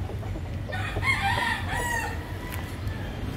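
A rooster gives one clear crow, loud and fairly close, over a steady low background hum, with no talking.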